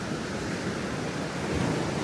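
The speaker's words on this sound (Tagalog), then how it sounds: "Grabe alon, ang ganda. Talagang puro alon." Steady roar of surf washing onto the shore, broad and continuous, with some wind rumble.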